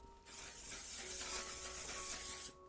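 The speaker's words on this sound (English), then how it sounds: "Shake it up, spray." A One Size On Till Dawn waterproof makeup setting spray mists in one steady, close hissing burst lasting a couple of seconds, with no talking.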